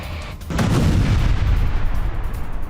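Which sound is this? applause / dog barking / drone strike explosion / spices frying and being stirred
drone strike explosion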